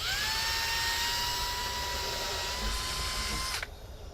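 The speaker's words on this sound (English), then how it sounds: "I'm going to take the drill, got it marked out here where I want the door to be, and I'm going to drill a hole" A power drill boring a hole through a plastic barrel wall, a loud continuous high whine held at steady pitch for several seconds before cutting off abruptly near the end, leaving low background rumble.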